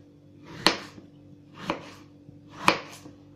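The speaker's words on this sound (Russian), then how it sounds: "Картофель я нарезаю вот такими дольками." A knife slices potatoes into wedges for country-style oven-baked potatoes, giving three crisp, separate chops on a board spaced roughly a second apart, close and clear with no talking.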